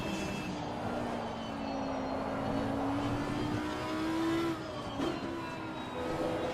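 An Audi race car engine at Silverstone in Assetto Corsa Competizione, a steady droning engine note that climbs slowly in pitch, then drops after a brief sharp shift, moderately loud and continuous.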